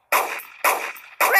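Three quick gunshots from Kick the Buddy, evenly spaced about half a second apart, each a short bright cartoonish bang with a brief ringing tail, loud and close.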